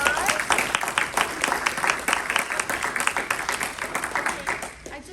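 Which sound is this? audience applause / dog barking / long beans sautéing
audience applause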